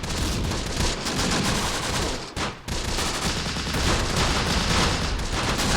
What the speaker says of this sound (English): Some decent mortar rounds.